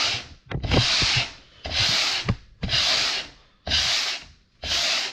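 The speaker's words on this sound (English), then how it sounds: "And I like the long block sander. It makes it much easier when I have to score the bottom." A long block sander rubs along the edges of a wooden cabinet door in five brisk, rhythmic strokes, each a close, gritty scrape with short pauses between them.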